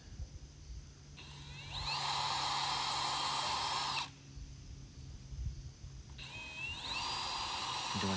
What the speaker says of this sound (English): I pre-drill 5 holes in each one.